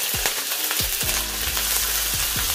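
Onions frying in hot oil for meat pie filling, a loud continuous sizzle with crackles and occasional stirring thumps, close up and without talk.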